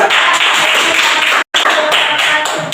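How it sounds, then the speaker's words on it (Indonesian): A classroom group claps for group 3, a brisk burst of applause with a brief gap, dense and close, with no talk. "tepuk tangan untuk kelompok 3"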